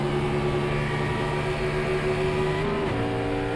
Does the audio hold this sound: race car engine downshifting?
yes